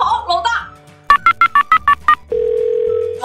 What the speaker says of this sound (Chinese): 拿电话给他的家人打电话